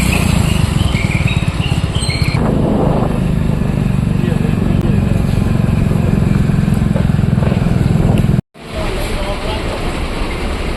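Motorcycle being ridden, a close, steady engine drone with wind noise running under someone talking, briefly cut before resuming.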